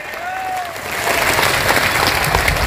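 Crowd applause at an election campaign rally for a by-election, dense steady clapping that builds and stays loud throughout, with a faint tonal whine early on.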